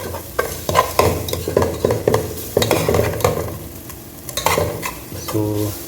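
Masala with chilli powder frying in oil as it is stirred, with rhythmic scraping strokes of a spoon against the pan over a continuous close sizzle and no voices.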